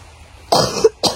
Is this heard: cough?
yes